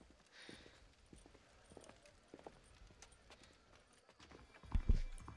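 Horse hooves clip-clop at a walking pace in the video game Red Dead Redemption, faint and irregular under low background sound, with a louder thump of movement near the end.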